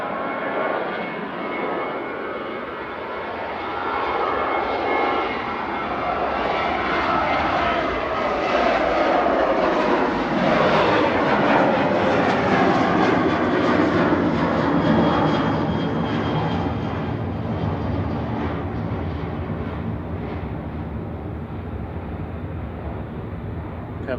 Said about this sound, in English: Ryanair taking off.